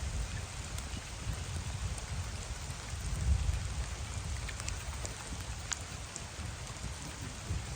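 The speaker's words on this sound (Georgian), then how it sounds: "ძალიან წვიმს" Heavy rain pours steadily in the Tedzami river gorge near Rkoni during a mountain jeep hike, a dense, constant close-up patter on surfaces with a brief swell around the middle and no voices.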